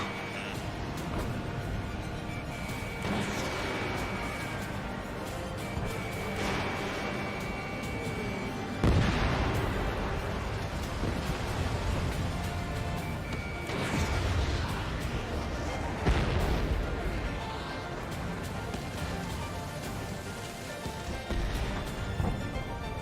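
Missile launches and explosions in the flight combat game Ace Combat 7, heavy booming blasts rising over a dense, continuous roar of engines and music, with several loud bursts spaced through the scene.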